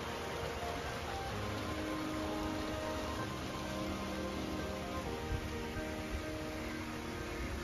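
Steady rain falls over a farm where sheep graze, a soft continuous hiss and patter of drops with no breaks, fairly quiet and even throughout.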